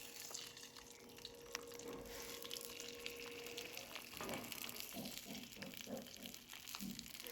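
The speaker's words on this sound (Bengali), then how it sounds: "এখন আমি সেই তেলের মধ্যে একে একে সবকটি পাতুরি দিয়ে দেব।" Boal fish paturi wrapped in banana leaf fries in a little oil, giving a faint, steady sizzle with soft crackles and a few dull thuds and knocks as parcels are placed in the pan; no one talks.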